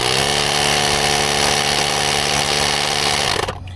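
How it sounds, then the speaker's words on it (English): A steady mechanical droning hum from the tire inflator pump of a multifunction jump starter, loud and continuous, cutting off abruptly near the end. "before you turn the tire pump on"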